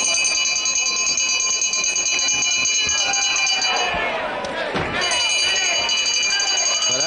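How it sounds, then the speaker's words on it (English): A wrestling match bell rings continuously with a sustained metallic clang while a crowd roars and a commentator talks over it. "As always, of course, Kellett hasn't heard the bell"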